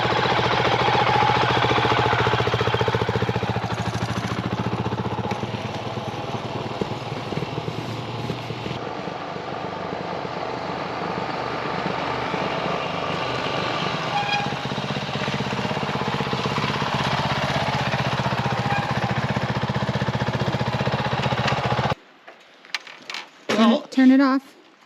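A touchy motorcycle engine runs steadily at a rough, loud idle for a long stretch before cutting off, leaving only scattered handling noises.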